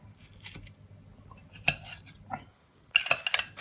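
A spoon scrapes and clinks into a dish of Weight Watchers-friendly nachos topped with dip. The sounds come as a few close, sharp clatters and scrapes with short pauses, no talking.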